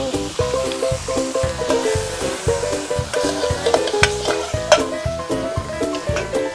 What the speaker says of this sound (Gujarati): ફાઇનલ હવે માં વઘાર નખાય છે